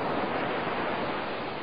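Ocean waves washing on a sandy shore, a steady loud rush of surf with no breaks, heard alone as an animated film sound effect.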